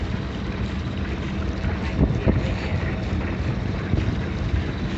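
A sailboat out on a daytime sail off Los Angeles, heard as a steady roar of wind buffeting the microphone over low rushing water noise along the hull, continuous and fairly loud without any clear talk.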